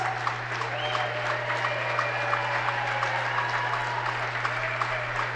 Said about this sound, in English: one more round of applause for your 2020 Carthage Women's Basketball Senior Class